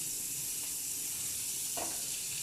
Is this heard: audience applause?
no